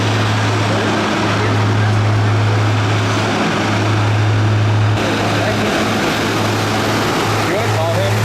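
Loud, continuous helicopter rotor and engine roar from a rescue flight between Gorak Shep and Lukla in Nepal, a steady drone with a low pulsing beat throughout and voices talking faintly beneath it.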